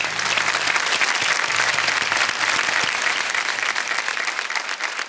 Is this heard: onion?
no